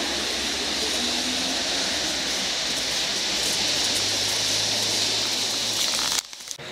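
A loud, steady roar of a train rushing past close by near Plzeň, broadband and continuous, cutting off abruptly near the end.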